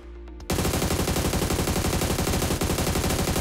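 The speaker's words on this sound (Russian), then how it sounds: "Вот он стреляет, но какие же здесь щиты, правильно?" Automatic rifle gunfire in PUBG Mobile, a faint lead-in that breaks into a loud, sustained rapid burst of shots running unbroken to the end.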